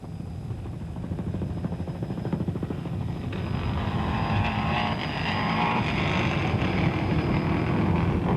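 Helicopter rotor and engine noise, steady and fairly loud, over a 1998 SCCA Pro-Rally stage at Rim of the World, with a broadband whine and roar that swells slightly partway through.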